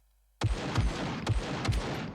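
Gunfire in the survival video game SCUM: after a moment of silence, four or five sharp, loud shots ring out at irregular intervals, with no talking over them.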